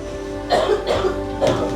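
Three short, harsh coughs in quick succession, close by, over a faint steady hum.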